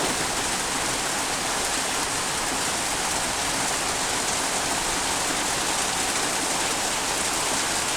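Heavy rain pours steadily over a village home and yard, a dense unbroken roar of falling water that stays close and loud throughout.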